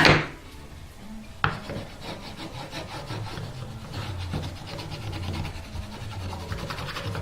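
Wood being burnished by hand on a custom electric guitar body, a sharp knock followed by continuous rhythmic rubbing strokes, close and fairly loud with no talking.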